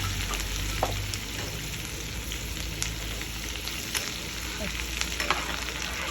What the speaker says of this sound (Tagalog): Iginigisa ko na siya.